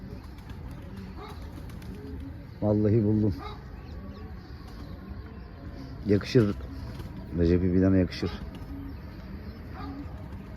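Pigeons cooing in a loft in a few loud, close bursts, with someone talking over them.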